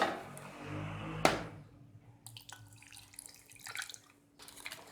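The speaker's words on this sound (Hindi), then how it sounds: "थोड़ा सा और पानी डालूंगी" Water poured onto grewia fruit pulp in a bowl, a short splashing pour followed by trickling, dripping and wet stirring sounds, close and fairly quiet.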